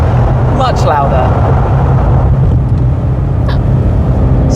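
Ford Mustang Dark Horse exhaust in sport mode, a loud, steady, deep drone that runs unbroken throughout, with a voice speaking briefly over it near the start.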